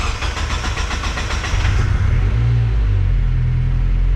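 A turbocharged car engine cranks rapidly after being primed, then catches and settles into a loud, steady rumbling idle, heard close up with no talking.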